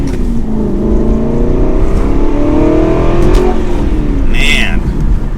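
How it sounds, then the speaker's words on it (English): A manual Aston Martin V8 Vantage GT accelerates from inside the cabin, its V8 engine rising in pitch through the revs, loud and close under road noise. "a nice little test drive in the Aston Martin V8 Vantage GT with a stick shift"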